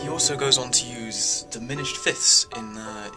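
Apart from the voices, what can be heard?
None of the usual background noises is heard.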